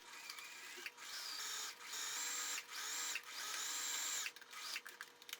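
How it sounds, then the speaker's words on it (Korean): Sewing machine stitching along a seam to join the outer fabric and lining of a checked pleated skirt, running in several steady bursts of a few seconds each with short pauses between, fairly quiet and alone. "요 라인 따라서 쭉 박아서 겉감과 안감이 고정이 되도록 해주겠습니다"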